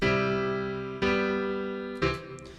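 Three sustained piano chords in root position, moving by leaps of a third, struck one after another about a second apart, each ringing out, with a light high note at the end.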